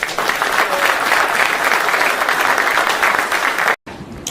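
Loud, dense applause from a large crowd, sustained for several seconds before cutting off abruptly.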